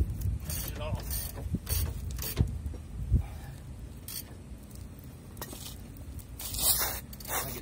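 A socket pressing a ball joint out on a 2003 Ram 2500 Cummins, with scattered creaks, clinks and scrapes of metal under strain, close and fairly quiet, with a few murmured words between them.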